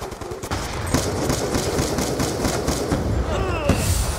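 Rapid automatic fire from a turret in the shooter Black Ops 2 rattles in a dense, sustained volley of loud bursts, with someone talking over the shooting.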